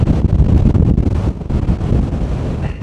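Strong, gusty wind roars and buffets the microphone continuously on an exposed mountain hike in the Rockies, loud and close, with no voices.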